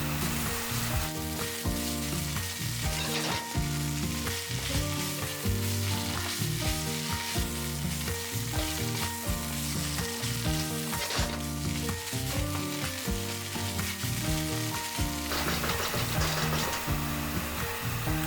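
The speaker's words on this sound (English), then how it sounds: "add half a cube of fish stock and fry this really nicely for about 3 to 4 minutes" Fish masala, salt and fish stock frying in a pan, giving a loud, steady sizzle that runs throughout without pause, with no talking.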